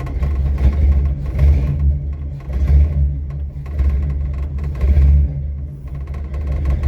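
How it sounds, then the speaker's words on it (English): A 1941 Plymouth P11 engine with a poorly running carburetor and faulty choke, rumbling loud and close at idle with several uneven revs rising and falling. "It's got good oil pressure when it wants to idle right."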